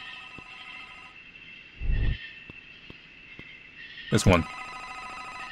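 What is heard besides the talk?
telephone ringing in a video game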